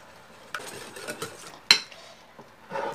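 A spoon scrapes and taps against a bowl while chocolate and cream are stirred together for a sweet potato spread, making a few soft, irregular clinks with one sharper knock partway through.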